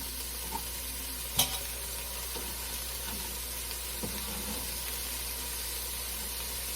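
Slices frying in a pan for red beans and rice, giving a steady close sizzle and hiss with a few faint stirring clicks and one sharper knock, alone with no talk.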